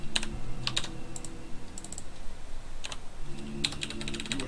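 Computer keyboard typing during a StarCraft II: Heart of the Swarm session, with irregular clusters of sharp, close key clicks separated by short pauses over a low background hum.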